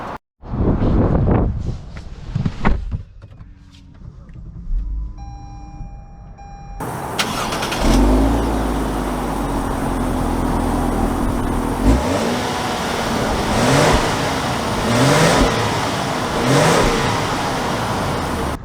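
A 2022 Lexus LS 500 with air suspension, a quiet cabin rustle giving way to a sudden loud rush of engine and road noise as the car drives off, with repeated rising revs as it accelerates through gears.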